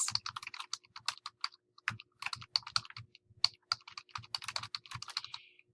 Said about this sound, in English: And I begin to type my return address.